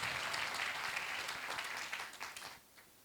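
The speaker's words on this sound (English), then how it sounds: "round of applause" Audience applause greets the launch of National Debaters Week 2024, a dense steady round of clapping that holds for about two seconds and then fades quickly to quiet.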